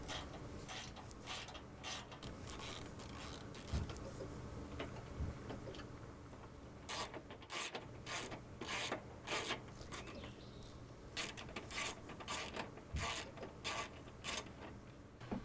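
On a 1996 Honda Civic, 10mm headlight fasteners are loosened with a ratchet, giving quiet bursts of rapid clicking ticks separated by short pauses, close and faint in an otherwise quiet space.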